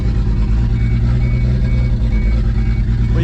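A car engine idles steadily after a head gasket repair, loud and close, with a rumbling, boomy tone from its loud downpipe, which has the wideband O2 sensor removed. It runs evenly throughout with no voices.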